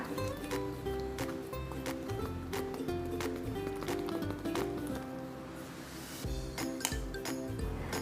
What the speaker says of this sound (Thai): ใช้ช้อนตีให้ไข่แตกออกนิดนึงค่ะ